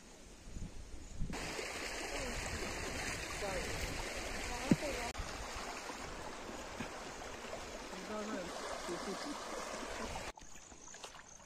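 Water flows and trickles through a small stream channel dammed with packed soil during traditional fishing, a continuous close rushing wash with brief splashes.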